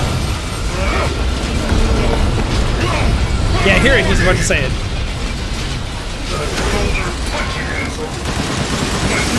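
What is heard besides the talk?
explosions and gunfire in the video game Resident Evil Village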